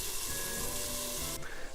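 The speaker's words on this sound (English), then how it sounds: "we're starting to get some sizzle out of these onions." Chopped onions sizzle in a hot pan, a steady, close hiss of frying that runs continuously with a slight shift near the end.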